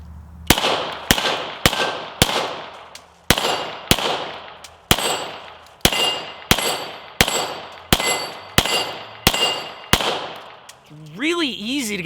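Hudson H9 pistol firing Fort Scott rounds outdoors, about twelve sharp, loud shots in a steady quick rhythm with short ringing tails. Brief talk follows at the end.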